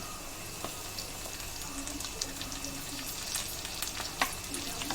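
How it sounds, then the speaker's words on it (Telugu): Onions with curry leaves and mint frying in a pan make a soft, steady sizzle with light crackles and a few stirring clicks, fairly faint and close. "ఆనియన్స్ ఫ్రై అయిపోయినాయండి"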